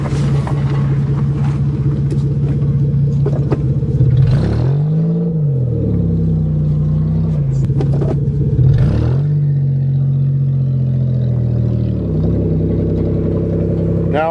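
Engine of a manual Toyota car on a farm, a loud steady close rumble with two rising and falling revs as the car slows under braking with the clutch pushed in.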